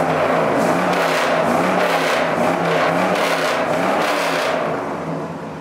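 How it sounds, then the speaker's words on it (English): An old American convertible with over 200,000 miles revs its engine hard in a loud, sustained throaty roar that rises and falls a few times before easing off at the end. "I'll give it a little rev here."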